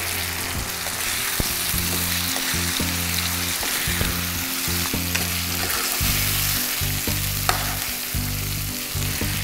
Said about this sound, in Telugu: వేసి ఒక 5 మినిట్స్ ఫ్రై చేసుకోవాలి.